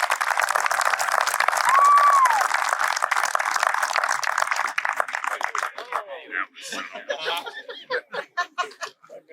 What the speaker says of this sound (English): give a big round of applause to your Executive Director, Mr. Dwayne Long